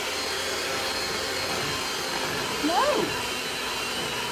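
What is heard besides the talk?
electric mixer mixing chocolate cake batter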